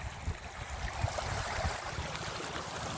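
Fast-flowing river water near Malbazar in the Dooars, a steady broad rushing roar with low churning bumps, heard close and alone.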